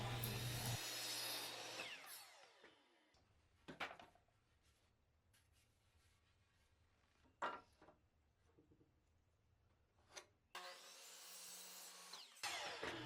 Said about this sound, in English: I'll cut them at a 45-degree angle with the DeWalt chop saw